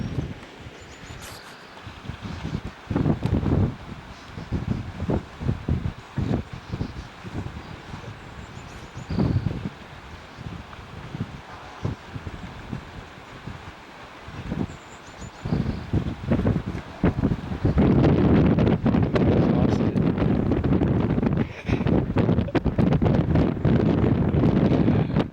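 Strong wind buffeting high up on a dome roof about 100 feet above the ground by a lake, gusts roaring against the microphone in uneven surges with rustling, building into a loud sustained blast toward the end.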